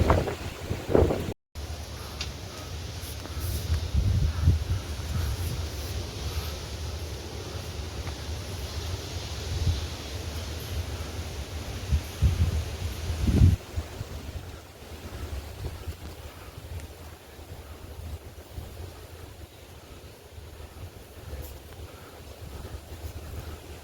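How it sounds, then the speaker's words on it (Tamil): Strong, steady wind roars and buffets the microphone on a narrow mountain trail up Kondarangi hill in Tamil Nadu, with a loud continuous rumble throughout and a brief dropout near the start. "காற்று தான் இங்கே ரொம்ப பிரச்சனை"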